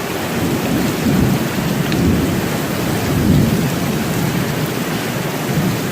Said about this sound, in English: This is severe thunderstorm criteria right now.